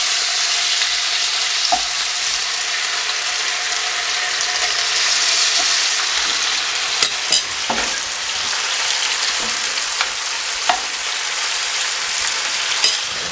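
Small batches of chicken pieces fry in hot oil in a pan, a loud continuous hiss and crackle close up, broken by occasional sharp clicks and taps of utensils.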